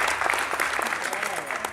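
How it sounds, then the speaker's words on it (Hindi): Loud, dense applause from the audience at a Marathi literary conference, a steady wash of many hands clapping that keeps going. "आप लोग अपने सम्मान में एक बार जोरदार तालियां बजा करके अपना खुद का सम्मान करें।"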